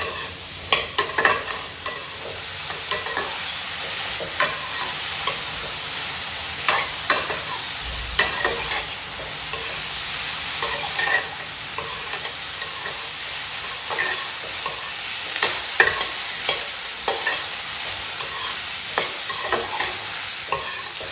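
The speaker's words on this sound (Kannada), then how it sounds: "1-2 ಸ್ಪೂನ್ ಆಯಿಲ್ ಹಾಕ್ಕೊಂಡು ಚಂದಾಗ ಹಿಂಗೆ ಎಣ್ಣೆ ಒಳಗೆ ಹೊಳ್ಳಾಡಿಸ್ಕೊಂಡು ಫ್ರೈ ಮಾಡ್ಕೋಬೇಕು ನೋಡ್ರಿ." Chopped radish sizzles steadily in one to two spoons of hot oil while being stirred, with continuous frying hiss and scattered scraping clinks of the spoon against the pan, close and alone.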